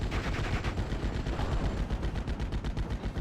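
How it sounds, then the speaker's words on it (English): Rapid bursts of machine gun fire from the Steel Division World War II strategy game rattle continuously, dense and fairly loud, with no talk over them. "receiving a lot of machine gun fire"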